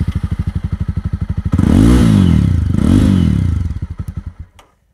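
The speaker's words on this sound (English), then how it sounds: "That's a nice and fairly deep exhaust note" A Jawa four-stroke motorcycle engine at close range, a steady, deep, thumping idle that is blipped twice into loud revs, then settles and cuts off.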